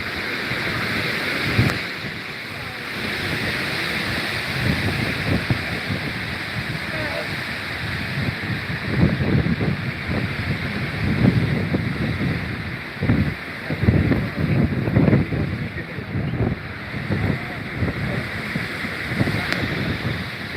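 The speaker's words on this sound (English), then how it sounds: "That wind's a blowing though." Strong wind blows across a high lookout at Beacon Rock State Park, a steady roaring rush with gusty buffeting on the microphone, while a voice talks intermittently.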